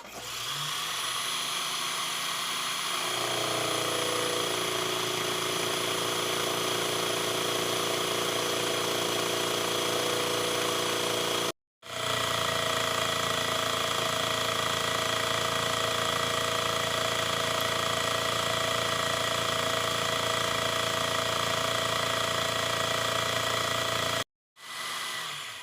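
A metal lathe cutting the last face of a part: steady whining machine drone that holds for long stretches, broken by two abrupt brief stops, loud and close with no talk.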